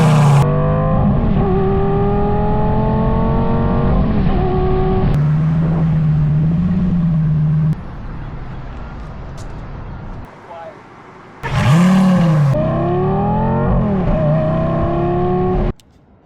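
Rebuilt McLaren engine revving hard through rising and falling pitch sweeps on a shakedown drive, loud and close, with a brief lull before another strong rev and a sudden cutoff at the end.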